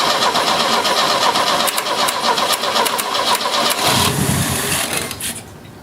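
An Opel GT engine fires up for the first time in 30 years, cranking and then roaring loudly and steadily before tapering off near the end.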